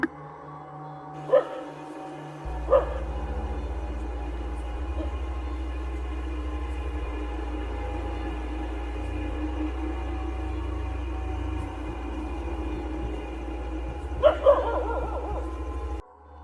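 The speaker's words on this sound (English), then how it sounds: "Look at how the dog barks in the distance." A dog barks a few times in the distance in India, single sharp yelps spaced far apart over a low, steady background hum.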